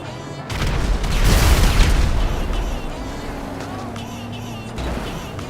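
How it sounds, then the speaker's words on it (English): Sticky bombs going off against a Ruiner 2000 in GTA, a heavy booming blast that swells and rumbles for a couple of seconds and then fades into a lower engine-like drone, loud and close. "how many sticky bombs to destroy it? Well, 5 will do."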